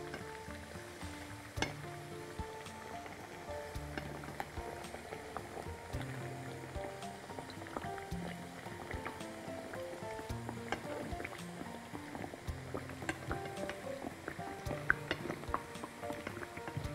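Stuffed potatoes sizzle and fry in a pan while being stirred and turned, a steady close crackle with scattered scraping clicks and no talk.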